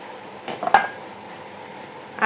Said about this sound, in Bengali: ভাবলাম যে ছোলা কয়টা একটু ভাজি করে নিই